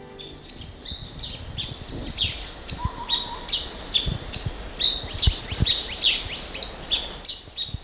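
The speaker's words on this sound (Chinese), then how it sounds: "这里的晚安曲是虫鸣，起床后是鸟叫" Morning birds chirping outdoors in a natural rural setting, a series of sharp clear tweets and short calls repeating at irregular intervals, moderately close over a soft background hiss.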